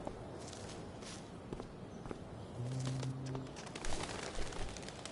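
A pigeon coos a short, low, soft call in the game Life is Strange: Before the Storm, heard among faint footsteps and quiet outdoor ambience.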